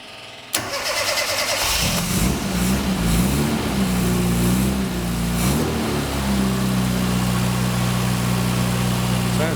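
A rebuilt classic Mini Cooper engine cranks briefly, catches with a sudden burst, then settles into a steady, fairly loud idle that holds for the rest of the clip, with no talk.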